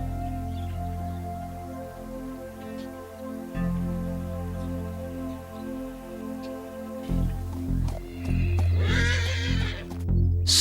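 A wild horse, likely a stallion, whinnies and neighs in a desert setting, with a louder, closer burst of neighing near the end over steady tonal background sound.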